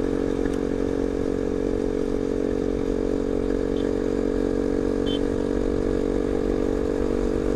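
A motorcycle rides along a Saudi Arabian highway, its engine a steady, dense drone mixed with wind rush, constant and close throughout with no break.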